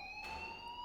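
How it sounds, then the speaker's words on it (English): A fire alarm rings in the video game Life is Strange, a steady electronic tone holding level and loud throughout, with no talk over it. "please turn off that alarm since that's your job"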